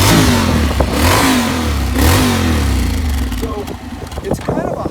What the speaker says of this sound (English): It's an automatic, so it's got great sound too.